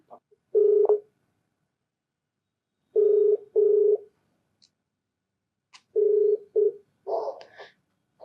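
A telephone plays dialing tones before a call, with short bursts of a steady beep separated by silences and a few brief extra tones near the end.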